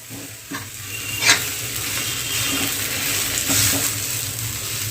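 Green peas being stirred in a pan with oil and tomato, a steady sizzle of frying underneath and a few louder scrapes of the spoon against the pan, with no talking.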